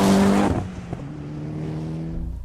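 A tuned 2013 Mitsubishi EVO X engine roars loudly up close on a road test, then drops back to a steady, harmonic-rich drone as the revs settle.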